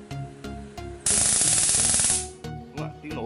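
A high-voltage spark module discharging across a 1.5 cm gap gives a loud, continuous crackling buzz lasting about a second, set between sharper single snapping cracks before and after.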